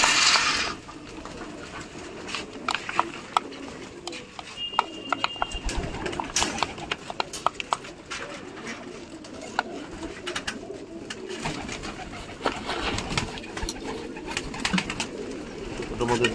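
Pigeons at a feeding site coo softly amid scattered clicks, wing flutters and shuffling, a busy, low-level bird chorus with occasional sharper taps and a brief whistle-like tone.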